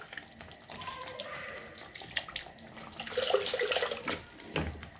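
A small splash of water poured into a pan of creamy butter chicken, trickling and sizzling in short bursts that swell toward the end, close and moderately quiet with no talk.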